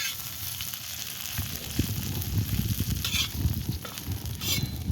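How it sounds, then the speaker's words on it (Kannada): Cluster beans (chavali kai) are stir-fried in a pan on a stove, giving a close, steady sizzle broken by repeated scraping stirs. "ಚೌಳಿಕಾಯಿ ಹಾಕ್ಕೊಂಡು ಹುರ್ಕೋಬೇಕು ಈ ಥರ."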